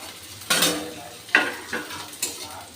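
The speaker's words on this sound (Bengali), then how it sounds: "এবার রসুন আর পেঁয়াজগুলোকে আমি একটু হালকা করে ভেজে নেব।" Onion, garlic and green chili fry in a pan, with a few distinct scraping stirs breaking over a soft sizzle, close and clear.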